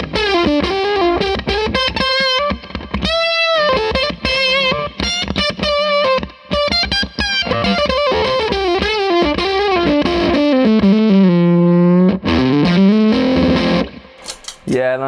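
Electric guitar through a Fuzzrocious Feed Me fuzz pedal plays a loud, saturated run of riffs and sustained bends, thick and continuous with brief gaps, ending on a swelling, wavering held note.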